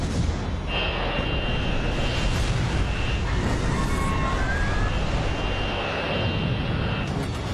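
An airliner on its runway rollout after landing gives a loud, continuous roar with deep rumble and a faint tonal whine, steady throughout as the aircraft slows.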